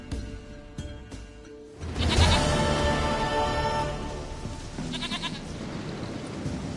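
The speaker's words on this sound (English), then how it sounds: "Goat of mine, dearest, sweetest goat." A goat in the video game Witcher 3 bleats in a couple of wavering, nasal calls over quiet game ambience, the second call shorter and a little fainter than the first.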